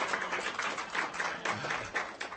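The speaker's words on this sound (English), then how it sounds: "that's great time for applause" Applause at a school district board of trustees meeting, a loose, moderately near patter of clapping from a small gathering, uneven and continuous for a couple of seconds.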